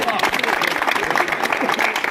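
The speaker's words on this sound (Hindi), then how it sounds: "महक नूर साहिबा के लिए बहुत सारी तालियां" A stage drama audience claps and cheers for the performers. The clapping is busy and fairly close, mixed with crowd noise and a voice speaking over it.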